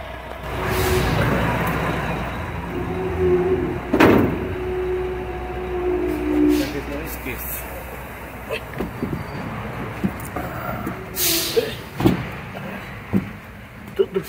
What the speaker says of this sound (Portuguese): Deixa eu fechar essa porta aqui que eu já volto.